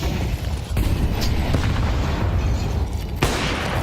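Grenade explosions on Banana in Counter-Strike's Inferno map during a professional match, with dense, loud, booming blasts and a sharp crack near the start and another burst later over constant rumbling game noise.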